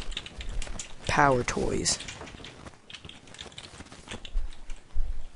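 Someone types on a computer keyboard on a Windows XP machine, producing a quick patter of light key clicks under a spoken voice, then sparser scattered taps.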